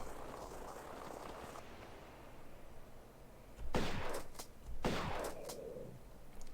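Two loud shotgun blasts ring out in the Tomb Raider video game as the player fires at lions in the Colosseum, heard over a low ambient background with no talking.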